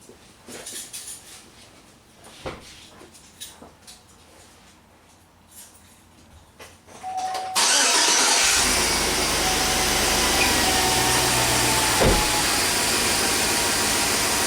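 A V8 car engine cranks and catches after several seconds of quiet clicks and shop handling noise, then settles into a loud, steady idle that continues to the end.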